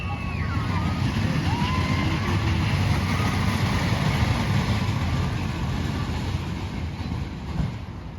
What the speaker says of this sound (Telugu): వస్తున్నది చూడండి, ఇదైతే ట్రైన్